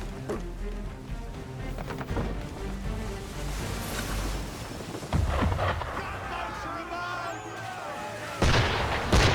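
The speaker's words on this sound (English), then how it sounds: "Why is he shooting at us?" Deep booming cannon fire from an attacking ship in Assassin's Creed 3 rolls out in several heavy blasts, with a sharp burst near the start and a louder crash at the end, set among rumbling battle noise.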